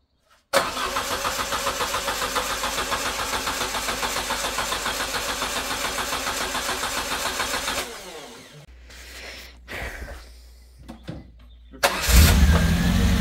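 A Peugeot 309 GT engine cranks and fires, then runs at a steady loud idle for several seconds before cutting off, followed by quieter mechanical clicks and knocks and a short rough burst at the end.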